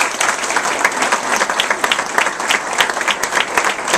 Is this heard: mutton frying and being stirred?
no